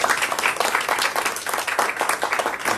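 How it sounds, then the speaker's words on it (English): Audience at a candidate forum breaks into a steady round of applause, dense clapping from many hands filling the room for a few seconds with no talk over it. "Let's give all of these candidates a round of applause"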